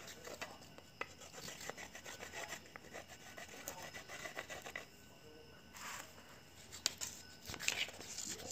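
Rough, steady rasping of a file sharpening a tool, strokes repeating close by at moderate level, with a few sharper scrapes toward the end and no voices over it.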